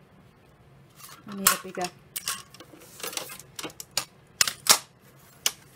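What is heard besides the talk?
trimming junk mail envelope paper for a journal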